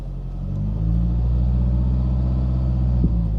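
A Citroen BX 4WD engine runs steadily with a deep, loud rumble as the car pulls away in first gear, the note swelling slightly with a single knock near the end.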